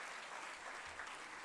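Steady applause from an audience at a sports day award ceremony, honouring a nine-year-old chess player; dense, continuous clapping at moderate distance, filling the short stretch without pause.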